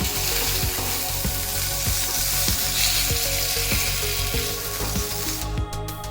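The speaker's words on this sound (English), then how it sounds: "So the fish is nicely fried now." Fish sizzling as it fries in hot oil for a Bengali fish kalia, a loud steady crackling hiss with regular scraping knocks from stirring or turning, no talking.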